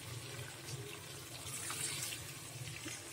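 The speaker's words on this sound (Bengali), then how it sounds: "আমি অল্প একটু গরম জল দিয়ে দেবো ওর মধ্যে" Hot water pours into a simmering chicken kosa curry in a kitchen pot, a brief steady rushing splash with a soft liquid hiss, close by.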